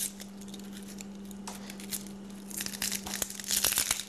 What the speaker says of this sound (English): I'm going to cut off both ends and kind of make a slit down the middle. It'll let me peel a layer off.